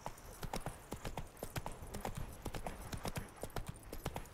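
Roach, a horse in The Witcher 3 video game, clip-clops along at a steady trot with crisp, evenly spaced hoof strikes, fairly faint, with no talking.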